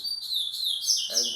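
A papa-capim seedeater, a small songbird recently nursed back from weak health, sings a bright, high warbling phrase of rapid chirps and trills, close and clear with no talk.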